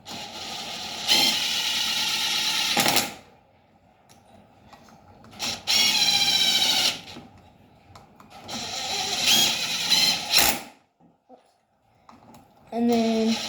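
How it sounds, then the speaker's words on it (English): A ratchet works the clutch-cover bolts on a 2003 Kawasaki KFX 400 quad, with loud, close bursts of rapid clicking that repeat several times and quiet gaps in between. "And take ratchet of any type."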